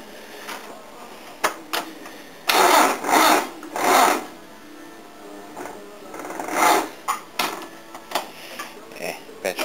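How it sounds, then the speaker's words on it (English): A Laser engine cranks over on a weak battery, making a few slow, labored cranking bursts separated by pauses, close and fairly loud, with brief talk in between. "We'll just see if it cranks over with the crappy battery."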